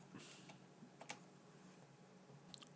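A few scattered keystrokes tap on a computer keyboard during Photoshop work, faint and sparse against a quiet room hiss.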